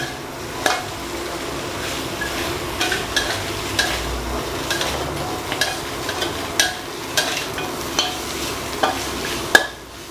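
Boiled, softened pork ribs stirred into sizzling Thai curry paste in a wok for a pork rib curry with eggplant, with steady frying hiss and a series of sharp scraping clinks from the spatula, close and alone.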